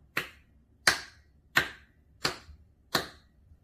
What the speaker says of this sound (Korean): 첫 번째 박수는 주먹박수입니다.